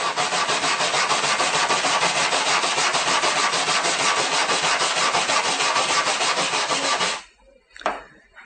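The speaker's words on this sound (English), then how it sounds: "You want to use the small brush to really get into it in the spot that you're welding on." A small brush scrubs an aluminum panel clean at the spot to be welded during dent repair. Rapid, steady back-and-forth scrubbing runs loud and close for about seven seconds, then stops, followed by a brief knock.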